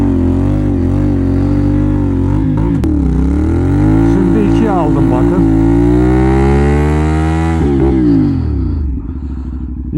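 A motorcycle engine revs hard and holds at high pitch during a tire burnout, rising and falling in loud sustained roars before easing off at the end.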